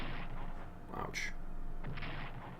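Artillery shell explosions in the World War I strategy game Strategic Command, a couple of booming hits in quick succession with a sharper crack between them, under a steady background.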